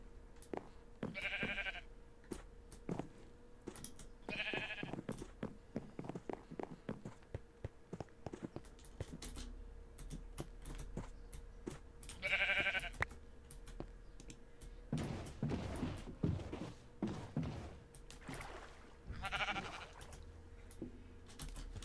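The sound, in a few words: sheep bleating in a video game, Minecraft Skyblock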